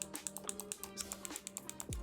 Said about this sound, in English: it's kind of hard to listen to stabilizers on a low profile keyboard like this.